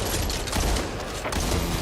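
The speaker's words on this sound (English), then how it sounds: "Just found a machine gun." Dense, continuous automatic gunfire in the zombie shooter game Back 4 Blood, loud and close with rapid overlapping bursts and no pause.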